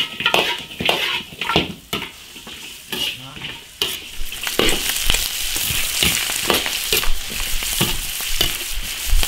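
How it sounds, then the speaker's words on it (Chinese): Chicken giblets stir-fried with ginger and scallion over high heat in an iron wok: loud, continuous sizzling and crackling broken by repeated clanking scrapes of a spatula against the metal, close up with no talking. "大火爆炒一分钟"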